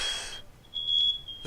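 Beeping alarm, like a smoke detector, giving a thin, high electronic tone after a brief burst of hiss, short and fairly clear with no talking.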